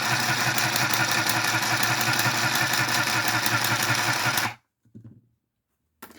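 A sewing machine stitches fabric for a scrunchie with a rapid, steady mechanical whirr for about four and a half seconds, then stops abruptly, leaving a couple of faint handling clicks.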